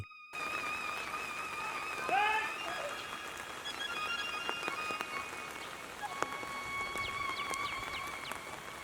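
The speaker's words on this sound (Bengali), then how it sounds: "কখনো ঝিরঝির কখনো বা ভারী বৃষ্টি" Steady rain patters on surfaces in a rural Bengali village, a close continuous hiss of drops, with birds chirping and whistling in the background.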